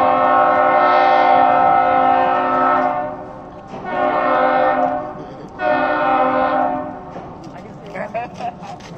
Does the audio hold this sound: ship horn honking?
yes